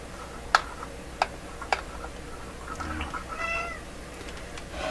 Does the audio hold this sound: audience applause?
no